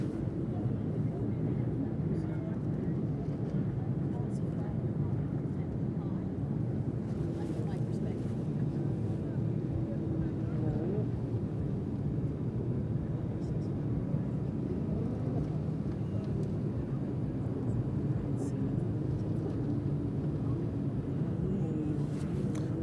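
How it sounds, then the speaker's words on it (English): Jet skis passing through New York Harbor during a parade, a steady low engine drone and churning water that holds throughout at moderate distance, with faint talk in the background. "just a random jet ski parade"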